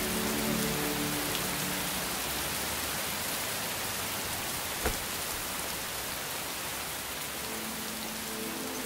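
Rain falling at night in the city, a dense steady hiss of rain on surfaces with a faint low hum and one brief tap midway, no speech.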